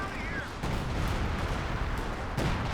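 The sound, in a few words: artillery fire in video game Company of Heroes 2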